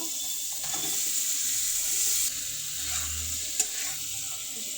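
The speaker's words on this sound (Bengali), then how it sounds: "মশলার সঙ্গে চিকেনগুলো মিশিয়ে নিব" Washed chicken pieces stirred into frying spices in a pan, a loud steady sizzle up close with a low bubbling stretch and a single sharp knock near the end.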